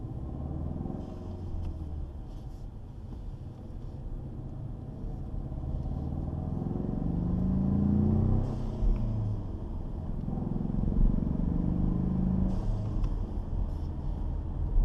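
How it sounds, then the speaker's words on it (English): A 2018 Ford Mustang EcoBoost with its stock blow-off valve venting to atmosphere accelerates, giving a steady engine rumble that rises and falls in two broad surges. A brief airy vent sound is possible between pulls but is not clearly picked out. "We're gonna pull onto the highway with the windows down to give you a better idea of what the stock blow-off valve venting atmospherically sounds like."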